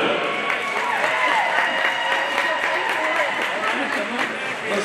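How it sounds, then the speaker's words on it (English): An audience at an indoor horse show applauds, a steady mid-distance patter of clapping running throughout while an announcer's amplified voice speaks over it. "How about a blue ribbon round of applause for Allie Joe?"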